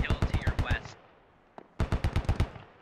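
A DShK heavy machine gun firing in the game Squad, two rapid bursts of about eight loud, punchy shots each, separated by a brief pause with one isolated crack.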